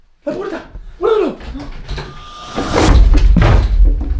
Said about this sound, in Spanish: ¡La puerta!